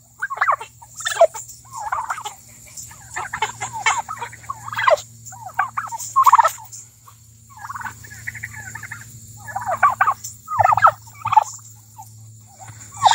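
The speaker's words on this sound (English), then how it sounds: "Aren't turkeys just the neatest thing?" Several Red Bourbon turkeys gobble and chatter in rapid, warbling bursts, close and loud, with brief gaps between calls over a faint steady background hum.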